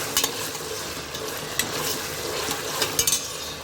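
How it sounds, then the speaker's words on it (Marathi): Ginger, garlic and green chili paste sautéing in hot oil for matar pulao, a steady soft sizzle with occasional spoon scrapes and light clinks against the pan. "ही छान पेस्ट तेलामध्ये परतवून घेऊया."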